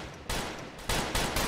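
Pistol shots in the Roblox Western game Westbound, three sharp broadband blasts spaced irregularly over a second and a half, loud and close with no talking.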